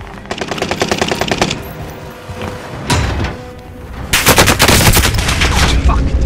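Heavy gunfire in Call of Duty Warzone on Rebirth Island: rapid automatic bursts, single shots and a dense, loud volley near the end.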